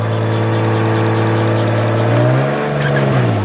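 A Lexus IS300 converted from automatic to manual transmission pulls away in first gear, its engine droning steadily and then rising in pitch as it accelerates, loud and close throughout.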